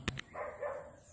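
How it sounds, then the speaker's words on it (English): A faint dog barks once or twice at a distance, followed by a brief, quiet whine, with no other noise around it. "sorry for the barking in the background"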